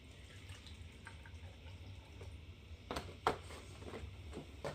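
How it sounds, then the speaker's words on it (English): Fresh Cravendale milk pours into a blender for a breakfast smoothie, a soft, steady liquid gurgle with a couple of sharper splashes, quiet and close, without talking. "I'm adding them in my blender. I'm gonna add my milk. I'm using Cravendale milk"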